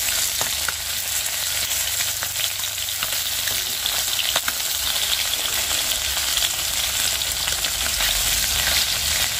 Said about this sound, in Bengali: উল্টিয়ে নিয়ে আর এক সাইডটা ভালো করে ভেজে নিচ্ছি